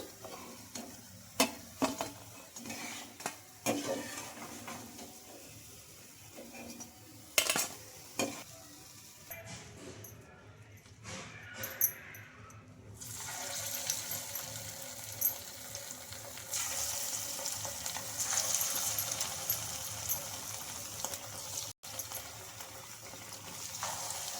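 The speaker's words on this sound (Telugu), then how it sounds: "ఇంకా రెండు వైపులా అటు ఇటు తిప్పుకుంటూ మంచి గోల్డెన్ కలర్ వచ్చే వరకు అయితే ఫ్రై చేసుకోవాలి" Poha fritters (punugulu) deep-frying in hot oil, a steady bright sizzle that swells in the second half, preceded by clattering stirring and handling sounds, close up with no talking.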